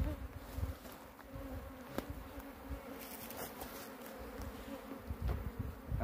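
Honey bees swarming during a hive transfer in a rural setting, a dense continuous buzz with fluctuating intensity and occasional louder close passes, heard alone without talk.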